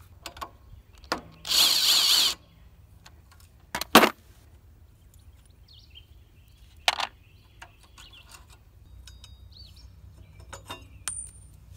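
A power tool undoes the air filter on a Predator 212 Hemi small engine, with a loud two-second whir, a sharp clatter of parts, a brief second burst, then quiet workshop background with small metallic ticks.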